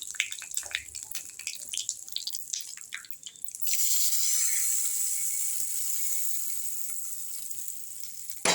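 Hot oil tempering with urad dal meets tomato chutney: scattered crackles and drips, then a sudden loud, hissing sizzle that holds steady and slowly fades, close by with no talking.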